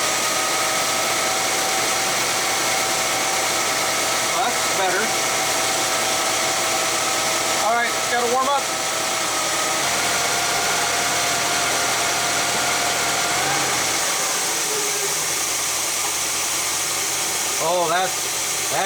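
1966 Chevy big block engine with a Quadrajet carburetor idling while warming up, a steady close rumble with a hissing top end, a voice speaking briefly at a few points.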